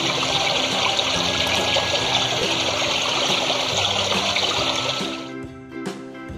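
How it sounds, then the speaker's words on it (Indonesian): A swiftly flowing river rushes in a loud, dense roar of water for several seconds, then cuts off abruptly into near quiet with a few faint drips. "mereka berlari ke sungai yang mengalir deras"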